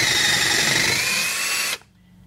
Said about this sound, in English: use a 1/4 inch drill bit and just drill this out real quick